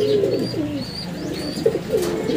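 A racing pigeon returning from a training flight of over 160 kilometers coos in soft, repeated low calls close by, with faint chirps above, during a derby loft arrival.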